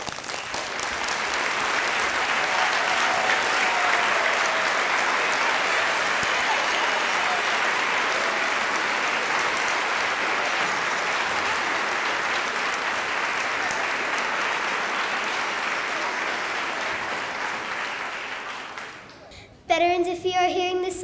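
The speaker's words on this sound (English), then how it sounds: "Let's give them a round of applause." A school assembly crowd applauds veterans in a long, steady wash of clapping that holds level for many seconds before tapering off, then music begins at the very end.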